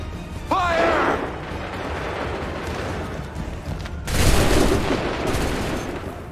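A musket volley fires in Assassin's Creed III: after a brief shouted voice, a sudden broad crackling blast of massed gunfire erupts and rolls on noisily, fading slowly over the last couple of seconds.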